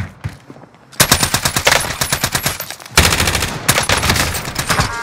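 Rapid automatic bursts from an EM2 submachine gun in Warzone Season 5, loud and close, two long sustained strings of fire separated by a brief pause, with no talk over them.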